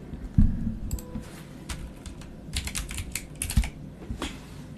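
Steady clatter of typing on a computer keyboard, quick irregular keystrokes with a couple of heavier thumps, close and fairly quiet, with no talking over it.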